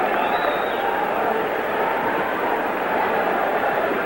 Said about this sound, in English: Now you begin to hear the crowd.